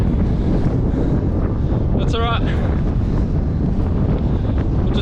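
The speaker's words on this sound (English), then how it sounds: "It's a bit windy." Steady wind roars and buffets a microphone outdoors on a coast in dingo country, a loud continuous rush broken by a brief chirpy call, with a voice speaking briefly over it.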